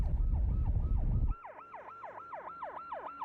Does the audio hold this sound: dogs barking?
no